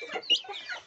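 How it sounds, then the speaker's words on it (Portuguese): A rooster clucks softly at night in a farmyard pen, with a few short, quiet clucks in a loose rhythm and no one speaking. "Muito bonito o galo, né?"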